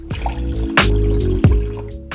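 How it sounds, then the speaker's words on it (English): Water poured from a vessel onto dry fonio grain while cooking, a steady splashing trickle with two brief louder sloshes, close and alone with no talking. "So you're basically just gonna add 4 times the amount of water as you did fonio."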